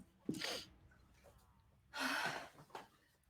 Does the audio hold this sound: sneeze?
yes